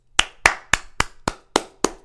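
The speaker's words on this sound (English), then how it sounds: "Huge round of applause to John Harbaugh and the Ravens organization" Seven slow, evenly spaced claps, each sharp, close and loud with a short decay, applauding the Baltimore Ravens organization and coach John Harbaugh.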